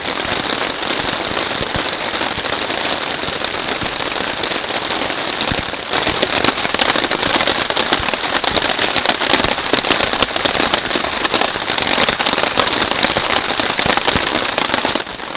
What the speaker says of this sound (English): with that rain still coming in really steady, sitting right next to the door, getting quite wet actually